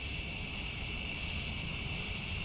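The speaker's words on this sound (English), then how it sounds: "Walking down to the spot, you can definitely tell there's a lot of cicadas around" Dense, steady insect chorus from cicadas in a field at night, a continuous high buzzing drone with no pauses, moderately loud and close, with no voices.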